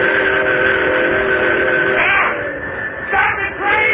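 Train sound effect from a 1962 radio suspense drama: a steady rumbling rail noise overlaid with sustained whistle-like tones, which swell and fade near the end.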